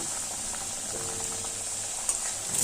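Chopped onions fry in hot oil with a little turmeric over a medium gas flame, giving a steady, bright hiss of sizzling with faint bubbling, continuous and close, with no voices.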